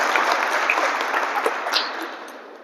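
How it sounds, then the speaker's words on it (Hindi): Dense, steady applause fills a hall at a leadership program, many hands clapping together at a consistent level and easing off slightly toward the end. "इसके लिए ताली बजाओ आप।"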